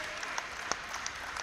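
A crowd at the VICTOR Oceania Championships 2022 badminton finals applauds a rally, a brief, moderately distant patter of clapping with a few sharper individual claps.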